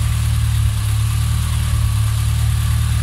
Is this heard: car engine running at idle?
yes